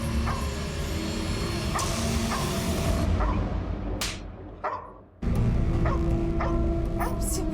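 Tied-up dogs barking and yipping in a dramatized crime scene, sharp repeated barks over a loud, dense background, with a brief dip near the end before the noise returns.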